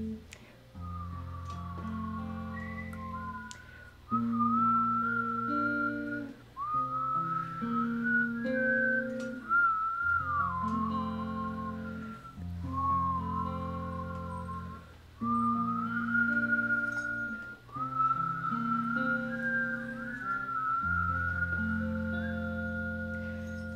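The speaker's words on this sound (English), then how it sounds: "Whistle along at home." A person whistles a lively melodic tune in repeated phrases over a steady instrumental accompaniment, with brief pauses between phrases.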